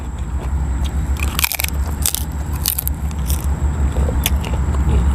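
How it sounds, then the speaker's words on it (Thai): Crisp, close crunching bites into a spicy stink bean and baby squid salad come in quick uneven bursts over a steady low background hum. "ยำกรุบกรุบไปหน่อยกรอบ"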